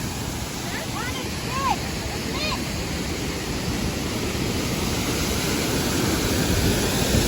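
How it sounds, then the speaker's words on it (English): A waterfall at High Shoals in South Mountain State Park, a constant broadband roar of falling water, close and steady throughout, with a few brief high-pitched calls over it early on. "waterfall!"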